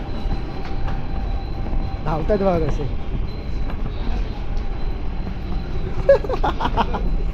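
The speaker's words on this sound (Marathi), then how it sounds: "ट्रेन आली धावा." A train pulls in at a small railway station, its steady rolling rumble and wheel clatter continuous, with passengers' excited voices and a brief horn-like tone rising over it.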